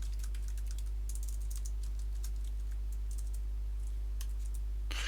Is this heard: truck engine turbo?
no